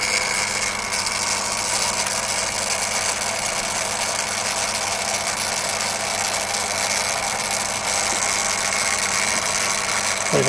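A refurbished Daiwa DR-7500 antenna rotator turning with its casing on, giving a steady mechanical motor whir and grinding drone, close and continuous for the whole stretch.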